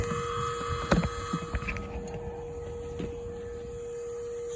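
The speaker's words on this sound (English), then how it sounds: "vacuum up any live wasps that we see coming up out of the bin while we dismantle the nest" A vacuum's steady motor whine and hum runs throughout as it sucks live baldfaced hornets (aerial yellowjackets) up from a bin during removal of a nest taken from a tree, with a few faint clicks and knocks near the start.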